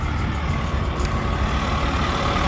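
Several big rigs idle in a queue at a freight yard entrance near Buena Park, California, giving a steady, loud low diesel rumble with a faint hiss of air partway through.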